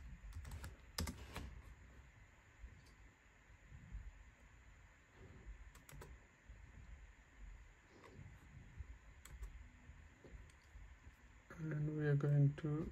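Close, fairly quiet keystrokes tap on a computer keyboard in short irregular bursts over a faint steady hum, with some louder noise near the end.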